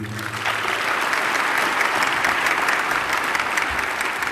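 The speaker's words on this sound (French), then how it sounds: "Je voudrais donc encore une fois vous demander de l'applaudir." An audience applauds a head of state at the official opening of the ACP/EU meetings: dense, steady clapping from a large crowd, loud and sustained for about four seconds without a break.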